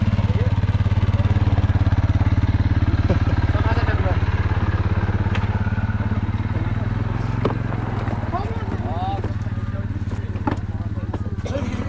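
Quad bike engine in the Agafay desert, a steady close idling rumble running unbroken throughout, with people talking over it.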